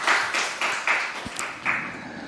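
Short bursts of clapping from a congregation during a Korean church worship service, a handful of loud separate claps with small gaps between them, close and fairly sparse rather than a full ovation.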